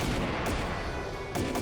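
Cannon fire from an airship in the Trails in the Sky SC video game, a loud sustained barrage of booming blasts with sharp bursts near the start and end, no talk.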